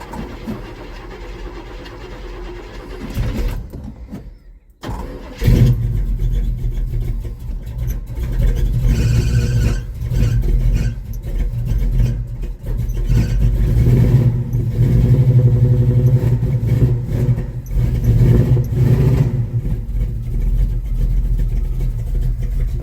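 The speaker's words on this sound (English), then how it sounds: "we're going to do a cold start. And it's not real cold, but this truck hadn't been cranked in 2 days" A 1969 Chevrolet El Camino engine turning over and catching on a cold start after two days unused, cranking briefly before settling into a loud, steady idle with uneven revving, recorded up close.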